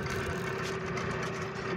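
A boat engine idles at the Umzimkulu Marina with a steady, unbroken mid-pitched hum and a faint tonal whine running beneath it, moderately close and heard alone.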